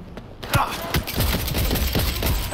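Rapid gunfire in the Cyberpunk 2077 video game, with a quick string of sharp close shots in an uneven rhythm after a brief quieter opening.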